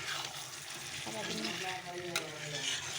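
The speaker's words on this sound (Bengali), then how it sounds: "আলুটা দিয়ে একটু কষে নিই" Potatoes sautéing in a pan for a home-cooked meal, a steady close sizzle and fry with occasional stirring scrapes, with a voice talking over it.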